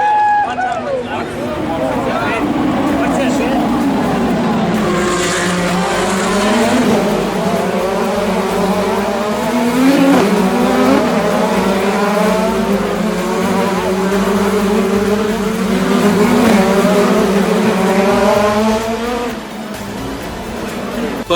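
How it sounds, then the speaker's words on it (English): IndyCar race cars accelerating at the start of the 2021 Long Beach Grand Prix street race, a loud, dense pack of rising and falling engine howls that runs throughout, with a commentator talking over it. "At the start of the race, Joseph Newgarden managed to hold off Scott Dixon"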